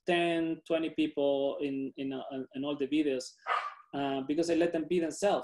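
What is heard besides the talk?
dog barking in the background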